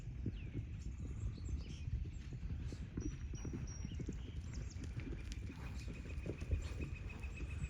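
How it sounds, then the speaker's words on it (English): Steady clip-clop of several draft horses' hooves plodding slowly on ground at a barn, moderately distant, with faint birds and outdoor ambience behind. "The draft horses are the slowest."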